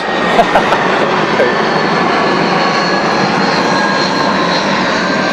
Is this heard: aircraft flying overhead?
yes